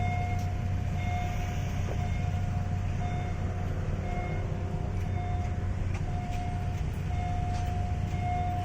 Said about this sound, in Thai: วันนี้มา ดูขบวน 75 ผ่านได้เลยนะคะ